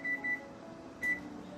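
Oven control panel beeping as the temperature is set, three short clear electronic beeps: two quick ones close together, then a third after a pause, over a low room hum.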